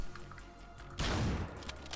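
A single heavy gunshot blast in the top-down action game Hotline Miami 2, sudden and loud after a quiet stretch, with a ringing decay of about a second.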